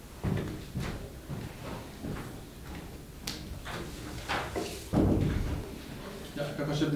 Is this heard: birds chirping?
no